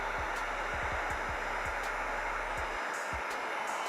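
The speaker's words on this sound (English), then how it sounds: "I'm gonna take the heat gun. I'm gonna heat it up so it can dry quicker" A heat gun blows on a sneaker heel tab during a Jordan Cement 3 heel tab swap, a steady loud airy roar held throughout, close up, with faint low knocks underneath.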